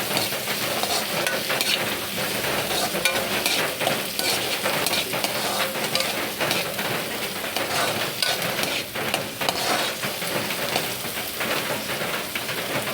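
Tomatoes sautéing in a pan for a Filipino banana blossom dish cooked in coconut milk, giving a steady close sizzle with continuous crackle and occasional stirring scrapes, with no talk.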